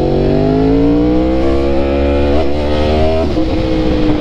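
Motorcycle being ridden, its engine droning loud and close with gradually rising pitch through the gears and brief shifts, steady with no speech heard.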